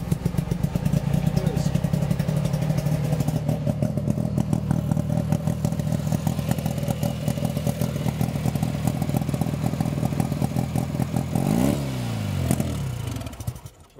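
A 1969 Subaru 360 sedan lightweight racer cranks with a steady, fast clattering starter rhythm for over ten seconds, close and loud, then winds down to a stop without catching.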